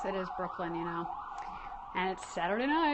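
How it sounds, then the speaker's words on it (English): Emergency sirens wail nearby, their tones rising and falling repeatedly while a person talks over them. "pardon the sirens"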